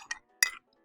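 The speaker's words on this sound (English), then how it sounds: "Careful with the clink." Cups clink during tea making, two sharp close ringing ceramic taps in quick succession, the second louder and longer, with silence around them.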